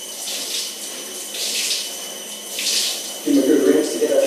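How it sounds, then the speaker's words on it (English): A cold shower runs with a soft steady hiss of falling water, joined by a louder, nearer splashing stream in the last second as someone washes under it. "Nice cold shower."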